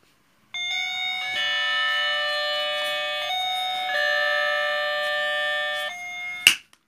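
An electronic doorbell rings with a long, steady chime melody that changes tone several times before cutting off with a click.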